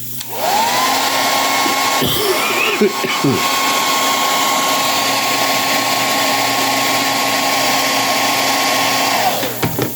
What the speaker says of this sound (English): I hit it with a hair dryer.